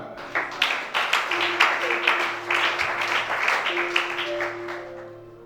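Congregation at a church service applauding together: steady, fairly close clapping from many hands with a few sharper accents, sustained for several seconds before tapering off, with a faint tone underneath.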